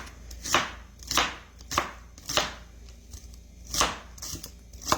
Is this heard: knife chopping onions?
yes